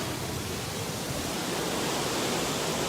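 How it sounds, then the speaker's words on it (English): A river runs with strong, powerful rushing water, a dense steady roar of broadband noise filling the scene for its whole length, constant and close with no talk and no breaks. "There is quite a bit of power coming off the water this morning."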